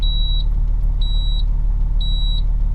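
Three evenly spaced high electronic beeps, each lasting about a third of a second, sound from a dashboard alarm inside a 2005 Monaco Executive 45 CAQ motor coach over a steady low rumble.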